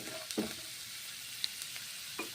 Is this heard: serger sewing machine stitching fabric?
no